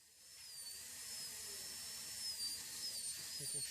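A high-pitched dental drill burr whines steadily while cutting a crown preparation, a faint close whistle held at shifting pitch with no voices.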